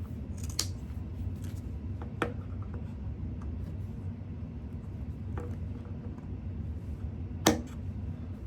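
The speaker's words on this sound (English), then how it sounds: "And I'm just going to do a quick little snip here." Pinking shears snip the fabric corners of a sewn bag, giving a few sharp, separate cuts spaced several seconds apart over a quiet room hum.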